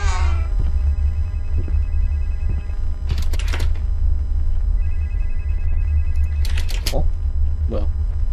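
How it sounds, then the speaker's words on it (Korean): A telephone rings in two separate bursts inside a hotel-set horror video game, its trilling bell heard clearly over a constant low ambient hum with occasional soft thuds. "전화 소리가 이쪽이야"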